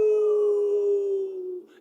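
A crowd of people imitates wolves howling together, a single sustained, wavering howl held for well over a second before trailing off, fairly close and loud.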